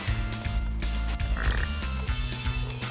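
Frogs croak in Castlevania: Rondo of Blood, a burst of rhythmic, game-synthesized croaks repeating quickly over the music with no talking.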